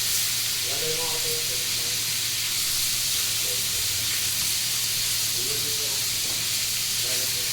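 Beef pieces sizzle steadily in a frying pan during cooking of a shortcut beef kaldereta, a continuous hiss with light stirring and occasional speech-like bursts over the top.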